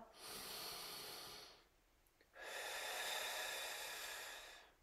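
Slow breathing during a shoulder mobility exercise: a long airy inhale, a short pause, then an equally long exhale, soft and close with no talking.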